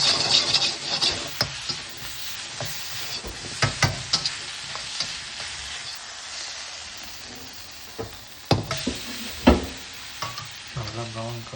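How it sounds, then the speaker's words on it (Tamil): Ginger, garlic and tomato sautéing with salt in a pan for palak paneer, an ongoing close sizzle broken by sharp scraping clatters of a spoon stirring against the pan, loud then easing slightly. "ஜிஞ்சர் கார்லிக் அப்புறம் உப்பு ஆட் பண்ணி நல்லா வதக்கணும்"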